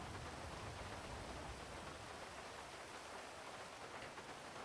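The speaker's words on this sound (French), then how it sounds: "Et bah, il pleut, hein." Steady rain falling in the video game GTA, a constant hiss of drops that stays even and unbroken throughout, with no talking.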